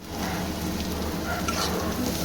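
Onions frying in hot oil until browned for a curry make a dense, even sizzle, close and steady throughout, with no talking.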